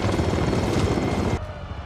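A helicopter in the Hobbs and Shaw action film gives off loud, dense rotor thumping and roar that cuts off abruptly near the end, leaving a quieter low rumble.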